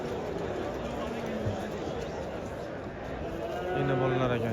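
Cattle at a livestock market, with a low drawn-out moo near the end over a busy background of crowd chatter and people talking.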